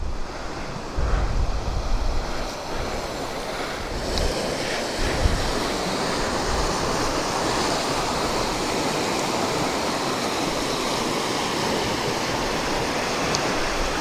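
Water rushes steadily through an old timber dam spillway, a broad continuous roar with wind buffeting the microphone now and then, no voices.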